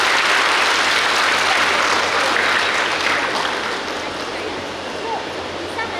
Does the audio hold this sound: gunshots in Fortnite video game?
no